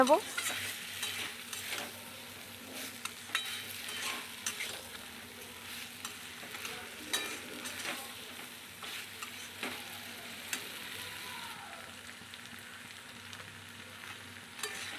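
Spices and pointed gourd fry and get stirred in a pan, a steady close sizzle with repeated scraping strokes of a spatula running throughout, no voices.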